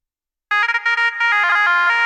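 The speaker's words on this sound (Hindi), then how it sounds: "तो ये ज़ेब्रा है मेरा" Zebra synthesizer plugin from a Bhojpuri track project, a bright, harmonically rich synth line starting after a short silence, playing a rapid run of stepped notes before holding a sustained tone, clean and loud with no voices.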